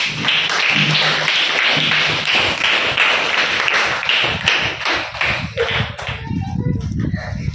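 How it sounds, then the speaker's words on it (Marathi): A group of schoolchildren clap together to welcome a teacher, giving a dense run of close, uneven claps that thins into scattered slaps toward the end, with voices mixed in. "टाळ्या वाजवून स्वागत करा बाईचं."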